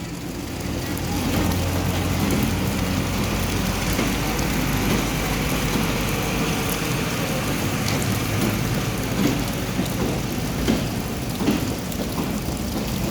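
Steady rain falling during the arrival of the Mahananda Mail train, a dense even hiss with a low rumbling undertone and occasional sharper taps.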